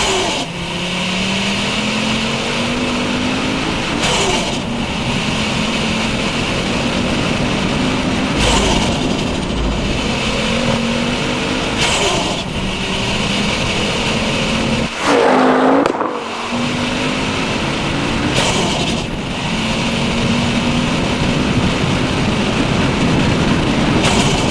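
Loud turbocharged five-cylinder engine of a 520hp Ford Focus RS Mk2, a steady, raw drone held for most of the stretch, with several brief gear-change dips and one sharp break near the middle, and no talking.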